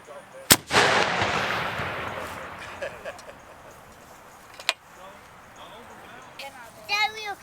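Black powder charge touched off with a fuse at a historic camp event: a sharp, loud boom with a rumbling decay, a second smaller bang later, and voices calling out afterward.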